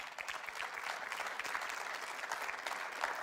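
A church congregation at a Sunday service breaks into sustained, even applause, a thick crowd clatter of many hands with no pause throughout.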